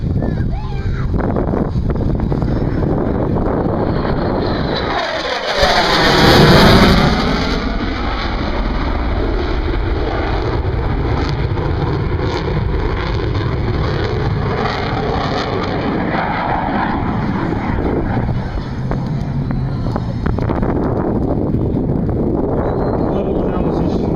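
An F/A-18 Super Hornet jet roars past at an airshow in Southern Wisconsin, a loud sustained rush that sweeps and peaks near the middle, with an announcer talking over it.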